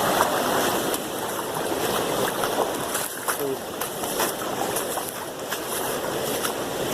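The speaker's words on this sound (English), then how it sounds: "Water's running pretty good." Steady rushing of flowing water fills the scene, a continuous broad wash with faint splashes, while a voice occasionally speaks underneath.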